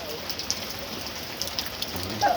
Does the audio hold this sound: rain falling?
yes